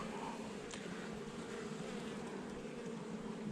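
Honeybees buzzing at a hive while a colony is being split, a steady, even drone of many bees close by with no voices.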